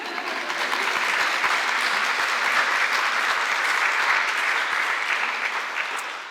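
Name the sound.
applause at nursing white coat ceremony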